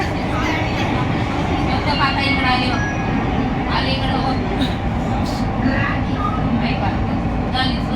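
An underground metro train runs with a constant heavy rumble and roar, with metallic rattles and squeals overhead as carriages rock. Voices murmur faintly under the noise.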